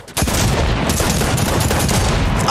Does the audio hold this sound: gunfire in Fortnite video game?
yes